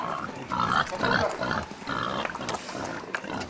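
Pigs on a farm grunting and snuffling while they feed, a close, continuous run of low rough grunts and chewing noises with no talking over it.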